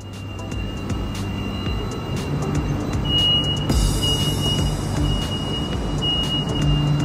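Inside a new-coach KLIA Transit train running in Kuala Lumpur, a steady loud rumble of the moving carriage fills the space, with a high tone joining midway and faint clicks throughout.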